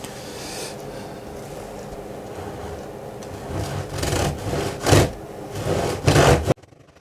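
A tenon saw cuts through a wooden board with rasping strokes that grow louder and quicker toward the end, then stop abruptly.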